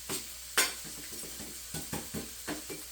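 Onion going into a hot pan for a retro spaghetti and franks dish, with a steady sizzle and several sharp scraping stir strokes against the pan, close and fairly quiet with no voices.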